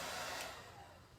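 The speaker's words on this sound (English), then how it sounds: "I'm just using the cool setting on my hair dryer just to get it dried" A hair dryer on its cool setting blowing steadily nearby, a smooth airy whoosh that eases slightly softer toward the end, with no talking.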